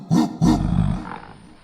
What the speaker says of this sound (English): Gorilla makes the sound.